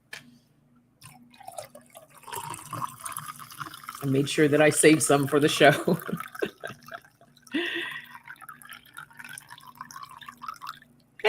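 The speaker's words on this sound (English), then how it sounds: "I'm going to pour myself some more coffee." Coffee pours into a cup in a short liquid splash and trickle partway through, with a person talking before and after it.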